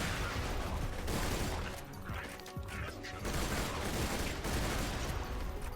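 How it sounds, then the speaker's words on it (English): Sniper rifle firing in bursts in a modded video game, rapid dense crackling gunfire with mechanical clatter, loud and continuous apart from a short dip in the middle. "this sniper rifle is nutty, because it burst fires like all of the bullets"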